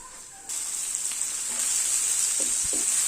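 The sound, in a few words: tomatoes being sautéed in a pan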